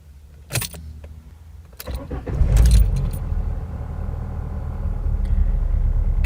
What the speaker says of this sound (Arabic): كما تشاهدون وتسمعون اشتغلت السيارة بدون أي مشكلة